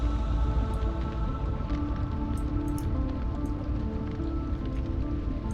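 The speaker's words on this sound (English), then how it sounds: "This must be hail, or something, for it to impact and go that far below the water" Hail pelts the water's surface in the underwater world of Subnautica: Below Zero, a steady, dense patter of small impacts over a low ambient drone, with a few brighter ticks.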